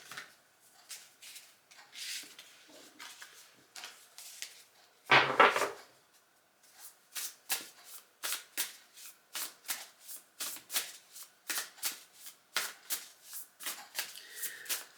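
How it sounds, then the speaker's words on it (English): Tarot cards being gathered and shuffled, with a brief louder burst of sliding and rubbing followed by a long run of crisp, regular riffle shuffles, each a short bright flutter. Close and fairly quiet, with no voices. "So let's gather up the cards."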